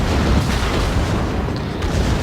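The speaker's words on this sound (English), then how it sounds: "Secondaries, of course, are going crazy at this range." Secondary guns on the battleship Republique firing at close range in World of Warships, a loud, continuous rumble of overlapping booms and blasts with no pause.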